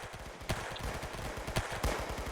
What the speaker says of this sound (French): je pense que vous aurez peut-être reconnu le Deagle, oula, le Deagle de Counter-Strike.